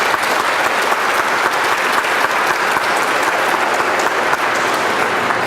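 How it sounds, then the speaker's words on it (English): Dense, sustained applause from a press-conference audience for basketball media-day hosts, loud and close with an unbroken, even roar of many hands clapping and no talk over it. "Could we thank them with a round of applause,"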